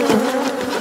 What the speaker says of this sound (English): This hive is even more angry than the other ones.